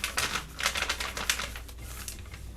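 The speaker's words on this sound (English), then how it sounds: "You can hear this paper's a little crunchy." Dry, crackly scratching of pencil on crunchy journal paper in short bursts, fairly close and steady, with no voices.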